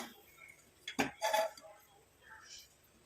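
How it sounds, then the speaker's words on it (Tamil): An iron kadai set down on a kitchen stove gives two short metallic clanks close by, followed by a fainter clink, amid a quiet room. "இப்போ நம்ம அடுத்து இந்த மாதிரி இரும்பு கடாயை அடுப்பில் வச்சுக்கலாம்"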